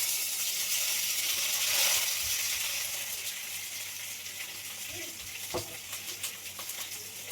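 A steady hot hiss of frying fills the clip, with a few soft clatters and pops as vegetable pieces for sambar land in the pan.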